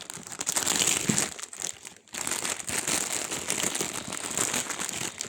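A package is unwrapped by hand, its plastic wrapping crinkling and crackling steadily and close up, with a brief pause near the two-second mark before the rustling resumes.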